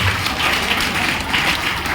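Steady applause from an audience at a training session in Gurgaon, Haryana, a continuous dense patter of many hands clapping at even loudness throughout.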